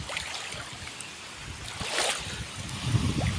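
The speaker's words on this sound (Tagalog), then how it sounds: "Malakas yung alon ngayon guys." Strong sea waves wash against the shore near small moored fishing boats on an overcast, stormy day, a continuous rough surf with gusty wind noise and a louder surge near the end.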